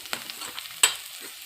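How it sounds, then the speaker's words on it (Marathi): Cumin seeds sizzle in a pan over low heat while a spoon stirs them in short scraping strokes, with one sharper clack near the end, close and clear. "जिरे पण टाकून घ्यायचे ते आणि मिक्स करून घेऊया।"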